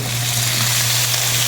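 Chopped tomatoes hit hot oil in a pan and fry with a steady, loud sizzle, unbroken and close, with no voices over it.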